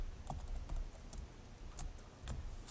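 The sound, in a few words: typing code on a computer keyboard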